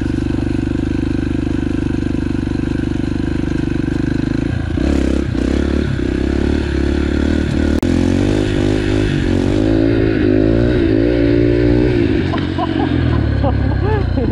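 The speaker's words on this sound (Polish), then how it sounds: "Bo się motor wtedy tak nie rozpędza" Motorcycle climbing a gravel hill, engine droning steadily then revving and labouring as stones crunch and clatter under the tires, with a rider talking over it.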